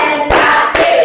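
Hand claps in the Indonesian tepuk clapping game in a classroom lesson, two sharp, loud claps spaced apart with a low tonal hum between them.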